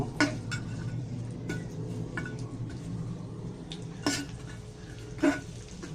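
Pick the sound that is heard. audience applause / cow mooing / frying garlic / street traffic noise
frying garlic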